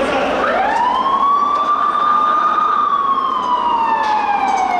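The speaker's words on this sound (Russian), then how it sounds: "На место ЧП оперативно прибывают пожарные расчеты." A fire engine siren sounds loud and close, rising then slowly falling in a long wail, as the engine arrives at a burning truck in a road tunnel, with a steady engine and road rumble underneath.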